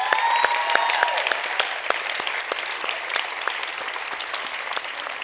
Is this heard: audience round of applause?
yes